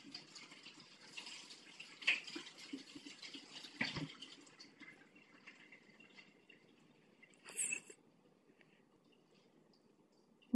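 Tap water runs quietly while dirty dishes are washed in a home kitchen, a soft uneven splash with occasional knocks and a brief sharp clink near the end.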